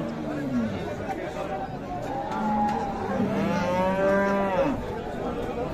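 Cattle lowing at a busy rural cattle market in Kaharol, a loud drawn-out moo rising and falling over constant crowd chatter and nearby talking.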